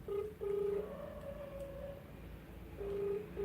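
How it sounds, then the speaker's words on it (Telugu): A phone is dialed, with a few tonal keypad or line beeps, some held briefly, sounding clear against a quiet background with no speech. "మీ ముందరే ఫోన్ చేస్తాను, మీ ముందరే కనుక్కుంటాను."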